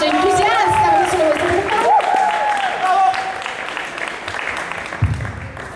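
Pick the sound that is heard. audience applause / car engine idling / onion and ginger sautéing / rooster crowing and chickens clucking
audience applause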